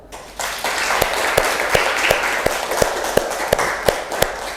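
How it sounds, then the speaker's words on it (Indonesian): A roomful of people gives a steady burst of applause to close a teacher training session on positive discipline, with a few sharp, distinct claps standing out over the dense clapping. "kita tutup dengan aplaus untuk kita semua"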